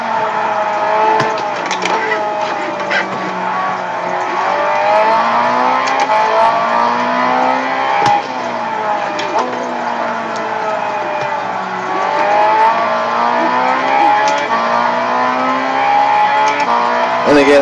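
A race car in the Gran Turismo video game drives hard, its engine note rising and falling through gear changes with occasional tire squeal, loud and continuous.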